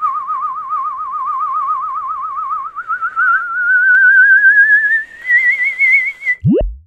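A steady, warbling whistled tone that wavers rapidly, slowly climbing in pitch over several seconds, loud and close, ending with a brief sharp sweep.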